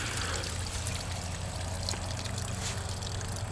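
Gray water pours steadily from an RV's holding tank as it drains, a continuous, fairly loud watery rush with low rumble and no pauses.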